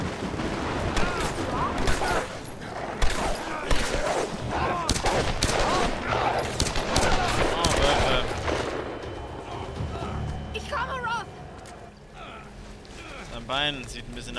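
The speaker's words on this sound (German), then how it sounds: "Schüsse." Rapid bursts of gunfire crackle densely for several seconds, then thin out into scattered shots while voices talk over the noise, from the video game Tomb Raider (2013).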